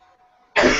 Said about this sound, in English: muting your microphone to cough really doesn't do anything because we still hear it in his microphone